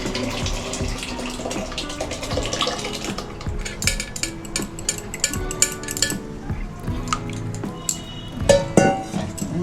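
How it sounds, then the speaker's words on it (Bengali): Lentils poured into a cooking pot for a traditional garur dal, a steady watery rush with clinks of utensils and pans throughout, close and continuous. "ডালটা ঢেলে দেবো।"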